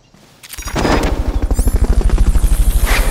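Fulton recovery helicopter in the video game Metal Gear Solid: Peace Walker, a rising engine roar that settles into loud, rapid rhythmic rotor thumping, close and continuous.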